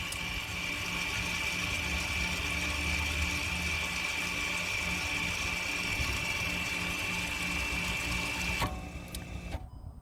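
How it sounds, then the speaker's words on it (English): An Audi Q3's electronic parking brake motor whirs steadily as it releases, a close mechanical drone that stops abruptly near the end, followed by a couple of faint clicks. "It was actually releasing the parking brake."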